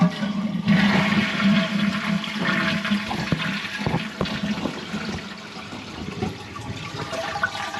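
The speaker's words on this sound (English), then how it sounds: "You flush it." A household toilet flushes with a loud rush of water that settles into gurgling and a steadier refilling hiss, close by and with no talking.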